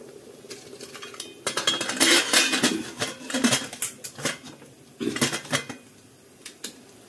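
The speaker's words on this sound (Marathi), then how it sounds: "आता मी याला झाकण लावून घेत आहे." A lid set on a pot of boiling raw mango chunda, heard as a run of metallic clinks and clatters of cookware, some sharp knocks in bursts with short pauses between, close by.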